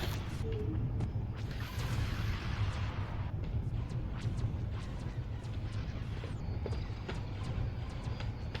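Dense, continuous rumbling blasts with rapid crackling bursts of blaster fire layered over them in the space game X3, loud and steady throughout.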